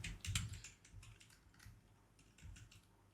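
Fingers type on a computer keyboard, entering a folder name in a few quick bursts of soft key clicks that thin out toward the end, with no voice over them.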